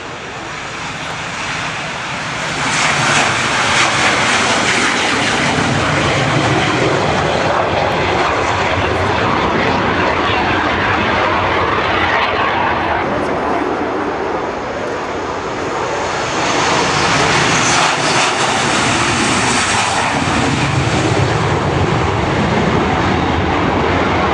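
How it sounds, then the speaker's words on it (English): Strikemaster and Hawker Hunter jets fly past in a mixed formation at an air display, their engines a loud, sustained roar that swells and shifts as the formation passes overhead. "the two aircraft that will be rolling behind, they're the Hunters. It's a mixed formation team."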